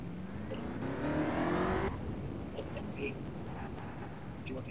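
A car engine in a video game revs upward in a rising whine for about a second, then cuts off, leaving a low engine drone under faint background noise and a speaking voice.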